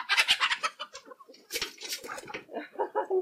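A laying hen that produces two eggs a day clucks close by in a series of short, busy bursts with brief pauses between them.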